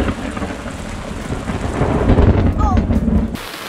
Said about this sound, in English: this rain just literally blew in